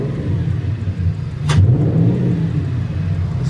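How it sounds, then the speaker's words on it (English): A cheap V10 car engine with a misfire runs close by, rumbling unevenly before a sharp blip and a louder, rougher rev that holds. "It kind of just sounds like it has a misfire now."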